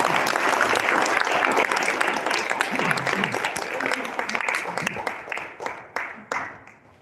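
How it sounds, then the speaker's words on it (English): An audience at a leadership event in Indonesia applauds steadily, loud and dense at first, then thinning into scattered claps before fading out. "How about a round of applause?"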